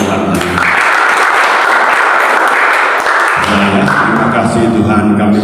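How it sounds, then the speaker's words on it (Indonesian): Congregation at a Jakarta apartment worship service breaking into loud, close, sustained clapping that swells and then gives way to a voice and music. "Tepuk tangan untuk Tuhan."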